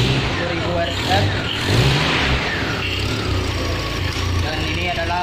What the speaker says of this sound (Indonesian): langkah selanjutnya kita akan menghidupkan enjin. Sekarang tenaga itu 1000 RPM.